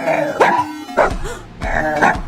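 In a scene from the film Nightbitch, a woman imitates a dog, giving about four rough, loud barks in quick succession, close up and with no talk around them.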